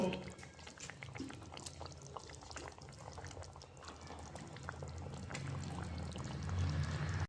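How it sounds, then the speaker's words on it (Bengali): Pieces of fried rohu fish simmer in a boiling potato curry, a dense continuous bubbling and gurgling that holds close and steady and swells slightly toward the end. "এখন আমি ভেজে রাখা মাছগুলো দিয়ে 2 মিনিট ফুটিয়ে নেব।"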